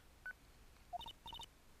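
Phone dialing tones from a Phoenix Wright courtroom video game, a short string of electronic DTMF beeps: one lone tone, then two quick pairs and a rapid triple, clean and fairly quiet with no voices.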